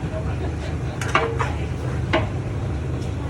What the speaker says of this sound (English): All right, y'all, here we go with the second flip